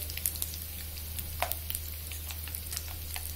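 Asafoetida and turmeric are spooned into hot oil for kande pohe, giving a faint, steady sizzle with a few small crackles and spoon taps, and no one speaking.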